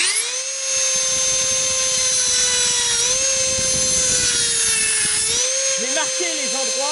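Dremel rotary tool grinding marks into a metal part from a Citroën Traction front axle, a steady close high-pitched whine that dips slightly in pitch under load before cutting off near the end.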